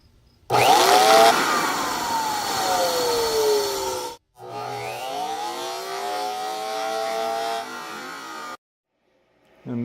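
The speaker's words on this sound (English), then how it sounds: "I was trying to see why it was sparking. I thought it was bad brushes, but it's actually shortened the windings" A central vacuum motor with shorted windings whirs up loudly in two bursts with falling whines and a crackling rasp, then cuts off into silence each time.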